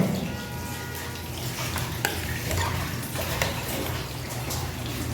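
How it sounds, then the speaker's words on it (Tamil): A pot of Arabian kabsa is stirred with a steady, wet scraping and bubbling sound that stays close and continuous, with a faint simmering hiss underneath. "கொஞ்சம் கலக்கி விட்டுடலாம்."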